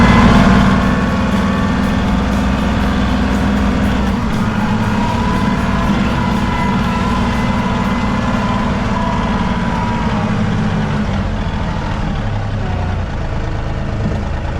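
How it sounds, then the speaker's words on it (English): A tractor engine runs steadily with a loud, low diesel drone that holds constant throughout. "Feels good to drive the tractor."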